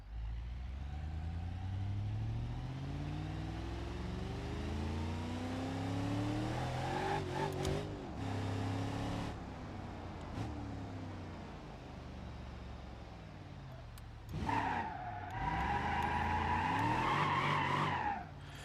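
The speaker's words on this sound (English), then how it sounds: "It makes some good power, but it doesn't spin the tires as hard as it used to." In the BeamNG.drive video game, a big-block car engine revs hard, rising and falling in pitch, while the tires skid and squeal. The sound is loud and continuous, with sharper surges near the end.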